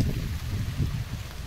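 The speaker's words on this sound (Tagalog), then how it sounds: "Lakas ng hangin." Steady, strong wind buffeting the microphone outdoors while crossing to the other side, with a low, rumbling roar that rises and falls in gusts, no voices.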